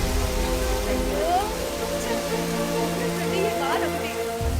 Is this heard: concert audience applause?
no